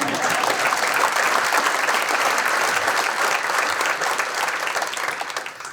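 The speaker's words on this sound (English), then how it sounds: "That deserves a round of applause." An awards ceremony audience gives a round of applause, dense, even clapping that holds steady and then slowly thins toward the end.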